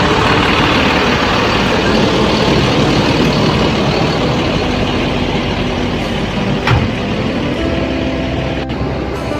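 ANS bus engine running at idle, a loud steady low rumble with dense broadband noise throughout, a brief knock partway through and no clear talking.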